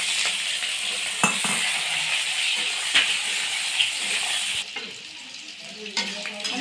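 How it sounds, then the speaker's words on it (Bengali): Onions sizzle and fry in hot oil in a wok, already seasoned with sugar, cloves and cardamom, a steady bright hiss broken by a few sharp stirring knocks. "আমি পেঁয়াজগুলো কড়ার মধ্যে দিয়ে দেবো।"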